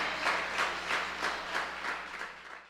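A church congregation claps together in a steady rhythm, roughly three beats a second, fading slightly at the end, with no voices over it.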